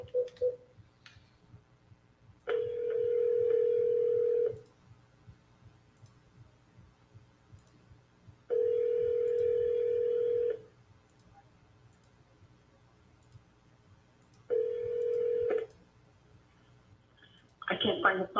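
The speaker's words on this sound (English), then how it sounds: "I can't find the phone. I hear it, but I can't find it." A telephone rings somewhere in a room, with three loud two-tone ring bursts of about two seconds each separated by quiet gaps, over a low background hum.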